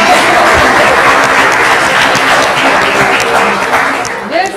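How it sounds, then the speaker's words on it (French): A live studio audience breaks into loud, sustained applause and cheering, a thick wash of many clapping hands that holds steady before tapering off near the end, with some voices mixed in. "Applaudissez pour moi."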